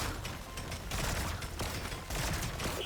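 Rapid, dense coil gun fire in the video game Deep Rock Galactic Survivor, a continuous crackling barrage of shots and small impacts layered with game effects, moderately loud throughout.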